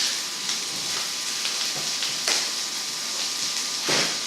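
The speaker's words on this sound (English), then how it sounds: "Just saute your garlic" Thin garlic slices sauté in a pan with a steady hiss and soft sizzle, broken by a few stirring bursts and scrapes, close and fairly loud with no voices.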